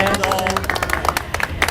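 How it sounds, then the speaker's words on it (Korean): A small audience claps for a professor during a talk about Seoul's history, with distinct hand claps repeating in an uneven, lively pattern over a murmur of voices. "일단 교수님께 박수."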